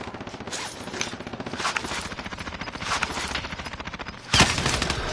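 Rapid automatic gunfire from the video game Call of Duty Warzone, an unbroken rattling stream of shots that ends in a louder burst near the end.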